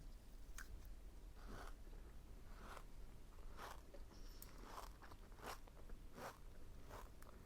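Close, quiet chewing of a crunchy snack, with soft repeated bites and crackles at a slow, regular pace over a faint background hiss; no talking.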